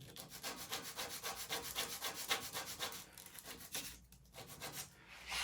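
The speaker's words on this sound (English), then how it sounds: "So I just get a piece of 60 grit sandpaper, and I use a scrap piece of wood that's kind of near the dimension." Back-and-forth rubbing of 60 grit sandpaper over wood in an 1884 house renovation, a steady rhythmic scratchy rasp repeating about three strokes per second, close and alone, briefly pausing near the end.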